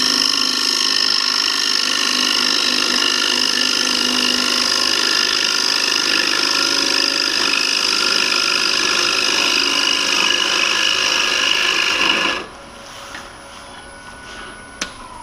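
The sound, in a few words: hollowing a wood bowl on a lathe with hollowing tool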